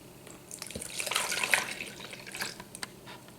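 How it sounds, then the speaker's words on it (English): Canned broth poured from the can into a container for a beef roast injection mix, a steady splashing liquid trickle lasting a few seconds, close and moderately loud, with no talking. "We're going to dump in canned broth."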